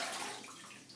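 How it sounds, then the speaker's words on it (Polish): Water splashes at a sink as a face is rinsed, a close, steady rushing wash that lasts about a second and fades slightly toward the end. "płuczę twarz jeszcze raz"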